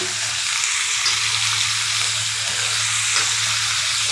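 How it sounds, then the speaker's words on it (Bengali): Green banana stirred into vegetables frying in a pan for shukto, a dense continuous sizzle with soft stirring scrapes, close and steady, no voices. "কাঁচাকলা দিয়ে একটু নাড়াচাড়া করে নেব"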